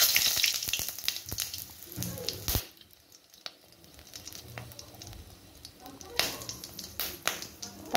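Cumin seeds and a dried chili hitting hot mustard oil in a kadai, a soft crackling sizzle with sharp pops and clatters from the pan, quiet and uneven, dipping midway before swelling again.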